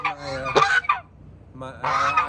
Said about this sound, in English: That's Maverick and Goose. They're Chinese geese.